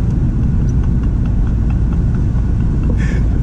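A car with a 4.6 litre V8 drives along, its engine a steady, loud low rumble throughout, with a brief higher-pitched noise near the end.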